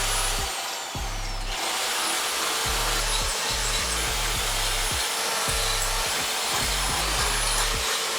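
A vacuum cleaner runs steadily and loud close by, a constant broadband roar that lasts throughout, with rhythmic low thumps and scrapes from the nozzle being pushed back and forth.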